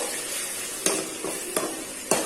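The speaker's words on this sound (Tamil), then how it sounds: "இது எல்லாமே நல்லா வதங்கிடுச்சு" Chopped tomatoes for bottle gourd kurma sauté in a pan with a continuous sizzle, broken by four sharp spoon scrapes spaced about half a second apart and no voices.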